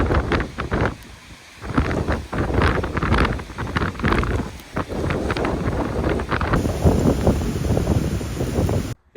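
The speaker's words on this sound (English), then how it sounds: "Yeah, too windy to paddle for most of the day." Strong wind on the Missouri River in South Dakota buffets the microphone in loud, continuous roaring gusts, with no voices, and a faint whistling hiss near the end.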